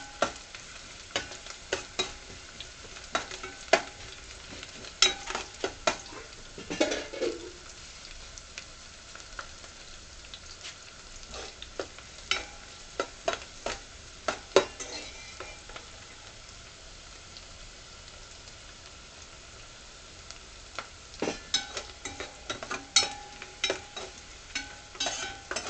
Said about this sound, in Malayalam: ഇനി ഇത് ഒരു ഗോൾഡൻ കളർ ആവുന്ന വരെ നമുക്ക് ഒന്ന് വഴറ്റിയെടുക്കാം.